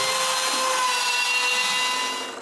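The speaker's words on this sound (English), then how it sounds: "I've left small tabs around the circle that I need to cut now." A power saw cuts small tabs around a plywood circle, making a steady, continuous rasping whine that fades slightly at the end.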